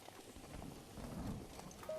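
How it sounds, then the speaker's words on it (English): Rain falls in the video game Breath of the Wild, a soft, even hiss of steady downpour, quiet and unbroken. "It's raining again."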